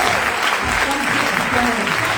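A church congregation applauds God during a sermon, a dense burst of clapping from many hands filling the room, mixed with a voice speaking over it.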